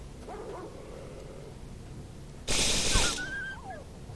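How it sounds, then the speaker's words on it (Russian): Dogs in the Stalker Online video game give a few short yips and whimpers over low ambient noise. A sudden loud burst, likely a gunshot, cuts through midway and is followed by higher-pitched yelps. "Вон собаки, вижу."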